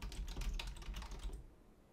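Rapid, close clicking of keys as someone types on a computer keyboard, a quick burst of taps that stops near the end, quiet and alone.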